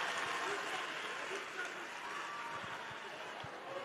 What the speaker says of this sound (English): clap for our Chinese speaking.